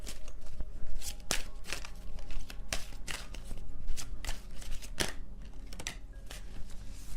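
A tarot card deck being handled and shuffled close up, with a rapid run of crisp card snaps and riffles in irregular bursts, alone without talk.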